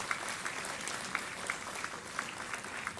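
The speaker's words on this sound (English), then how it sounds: "I request all the people to clap because it's required for all the students here." An audience claps steadily at an Aerothon 2024 education event, a dense sustained round of applause with a few sharper individual claps standing out.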